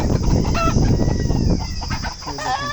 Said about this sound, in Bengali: এগুলো মুরগি দেখুন, এগুলো দেখুন মুরগি।